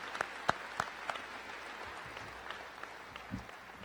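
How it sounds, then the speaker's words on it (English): Applause at a 2016 high school graduation for choir and band students: a few crisp claps stand out at first, then scattered, faint clapping trails off in a large, quiet hall. "Please give them another round of applause."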